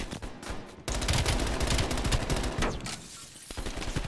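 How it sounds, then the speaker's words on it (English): Rapid bursts of automatic gunfire crackle in Call of Duty Black Ops Cold War, dense and continuous for a few seconds, then thinning to scattered shots, fairly quiet overall with no talking. "I was trying to shoot the guy around him"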